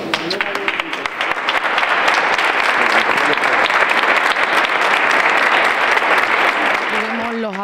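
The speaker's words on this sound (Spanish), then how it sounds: "Tenemos los aplausos" Steady, dense applause from a large crowd at a Good Friday procession in Aroche, Spain, fills the whole stretch, loud and sustained, with a voice briefly audible at the edges.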